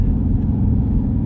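Widebody Dodge Charger Scat Pack cruising along, a steady deep low rumble from the car's engine and road noise filling the short stretch with little change in level.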